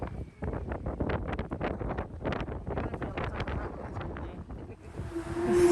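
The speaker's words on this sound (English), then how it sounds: "you can't hear me talking in the wind" Strong wind buffets the microphone outdoors at a hotel in Lisbon, loud and gusting in repeated bursts with no talk heard, rising further at the end.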